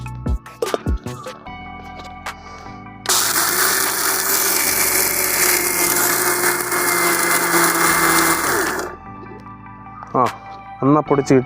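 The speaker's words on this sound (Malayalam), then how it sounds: "അപ്പോൾ ആദ്യം നമുക്ക് കപ്പലണ്ടിയെ പൊടിച്ചെടുക്കാം" A kitchen mixer grinds peeled peanuts into powder, a loud steady whirring roar running about six seconds, with people talking before and after it.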